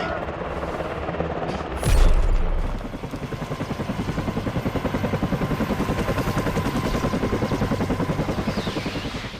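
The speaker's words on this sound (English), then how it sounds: "you're shooting from a downed helicopter" In the Battlefield 6 video game, a loud helicopter rotor chops steadily and rhythmically from a downed helicopter, with a sharp burst of gunfire near the start, dense and close throughout.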